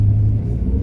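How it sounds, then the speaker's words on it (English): The engine of a 1988 Nissan Pulsar NX SE five-speed hatchback runs steadily at idle, giving a close, loud, low rumble with no talking. "the motor runs perfect. There's no noise, no smoke from the motor."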